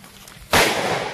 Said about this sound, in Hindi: ये बच्चे तो पानी का जो पटाखा होता है ना वो ही लगा रहे हैं।